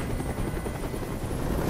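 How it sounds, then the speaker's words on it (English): A helicopter hovers in Detroit: Become Human, its steady, loud rotor chop and engine roar filling the scene without a break. "Tell that helicopter to get out of here."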